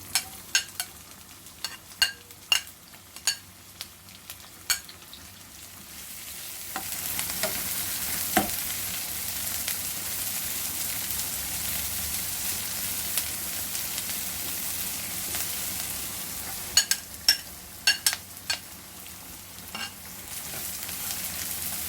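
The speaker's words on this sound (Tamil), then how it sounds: "அதோட பச்சை மிளகாவும் போட்டு அது நல்லா ஃப்ரை ஆகும்." Sliced large onions and green chilies frying in oil in a pan, a steady loud sizzle with intermittent stirring scrapes and clicks of a utensil at the start and near the end, no talking.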